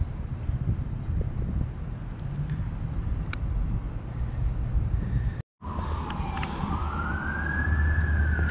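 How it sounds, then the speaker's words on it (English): A police car siren wailing some distance away over wind noise and outdoor rumble, its tone sweeping up and down late in the clip. "Sounds like the police are coming after me."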